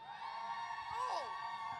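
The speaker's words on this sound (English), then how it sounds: "give a cheer now" Convention hall audience at MCM London Comic Con cheering for a Doctor Who panel vote, a broad, steady crowd roar that swells briefly in the middle.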